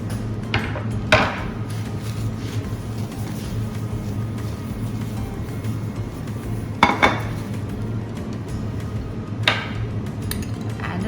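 Heirloom tomatoes and their juices are scraped into a bowl, heard as a few sharp utensil clinks and scrapes against the dish over a steady low background hum.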